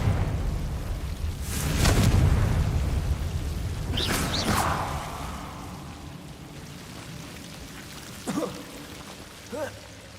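A Confringo blasting spell explodes in Hogwarts Legacy: a broad, rumbling boom near the two-second mark with a second burst around four seconds, then fading ambience and a couple of short tonal spell effects, with no talk over it.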